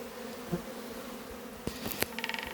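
Honeybees fly around hives at an apiary, a soft steady hum with a few closer buzzing passes and some sharp clicks and taps toward the end.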